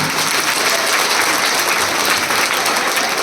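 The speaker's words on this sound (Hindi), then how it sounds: "आपकी तालियों के बिना हमें एहसास कैसे होगा" Loud, dense applause from an audience at a girls' school event, continuous clapping from a large crowd, close and unbroken throughout.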